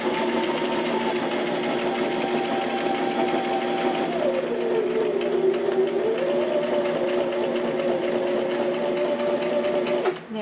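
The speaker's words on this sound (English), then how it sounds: "Now we'll go forward and finish off sewing the tab down." A sewing machine stitching a paper tab down in a Dina Wakley small media journal, a steady close mechanical whir with rapid needle ticking that dips in pitch midway and stops abruptly at the end.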